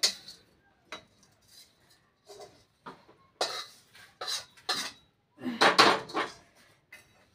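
A pan clatters and scrapes in short, separate bursts while whole spices are dry-roasted: cinnamon, dried coconut, cloves, black pepper, cumin, caraway, black stone flower, mace and nutmeg. The sounds are close, with quiet gaps between them.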